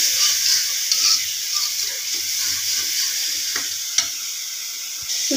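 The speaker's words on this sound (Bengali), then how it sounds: "এখন একে একে শুটকিগুলো কষিয়ে নেব" Dried fish (shutki) fries with spices in a pan, a continuous close hiss and sizzle broken by a few soft stirring scrapes and clicks, with no voices.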